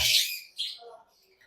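Lutino red-eye lovebirds at a lovebird farm aviary give a couple of shrill, squawky chirps close by, followed by softer trailing tweets.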